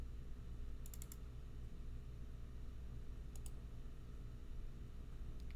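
Faint bursts of computer keyboard typing and clicking come from someone editing an image on a slow computer, two short flurries over a steady low hum.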